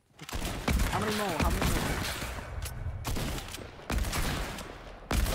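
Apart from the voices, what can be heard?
sniper rifle shots in Fortnite video game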